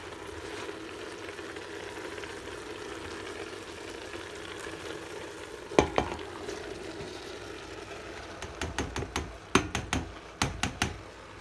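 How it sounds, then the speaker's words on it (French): Cut corn is tipped into a pan of vegetables cooking for a Cameroonian vegetarian sanga, with a low steady sizzle, then a few sharp clatters and a rapid run of scraping, tapping stirs near the end. "nos légumes étant plus ou moins cuits, nous allons ajouter notre maïs découpé."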